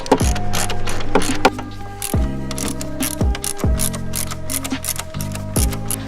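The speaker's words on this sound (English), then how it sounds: "We're going to undo the 13 mil on each one of these here" A ratchet undoes the 13 mm strut mount bolts on a VW Alltrack mk7, giving repeated bursts of close mechanical clicking separated by short pauses, with no talking.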